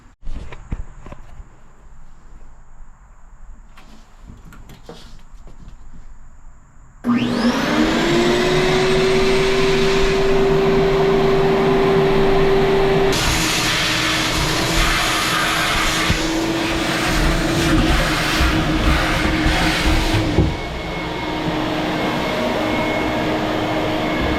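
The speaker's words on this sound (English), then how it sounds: "vacuum out the bleachy water again" A loud, steady vacuum motor whines and roars continuously while sucking bleach water from a boat water tank, with a rising pitch at startup and a rushing suction sound that persists for a long stretch.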